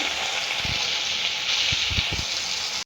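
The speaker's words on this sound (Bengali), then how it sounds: "এবার পেঁয়াজ দিয়ে দিচ্ছি।" Chopped onion hitting hot oil with cumin, ginger and garlic, a bright steady sizzle heard up close, broken by a few low thumps of stirring.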